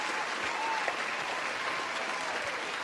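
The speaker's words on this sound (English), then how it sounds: "I like your applause better than mine." Steady applause from a live debate-breakdown audience, a dense wash of clapping hands sustained throughout at moderate volume with no talk.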